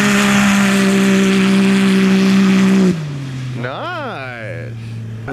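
Polaris Pro XP side-by-side engine on an ice racing track, a loud sustained high drone that drops sharply to a lower idle, followed by rising and falling revs.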